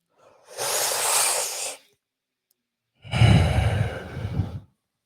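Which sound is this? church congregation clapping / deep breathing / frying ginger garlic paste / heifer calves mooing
deep breathing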